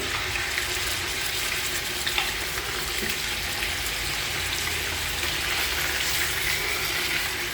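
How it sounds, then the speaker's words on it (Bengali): Beef pieces frying in hot ghee in a pot give a steady, dense sizzle that stays loud and even from start to finish, with no talking. "ঘিটা গরম হয়ে গেছে, এখন দিয়ে দিব গরু মাংসগুলা"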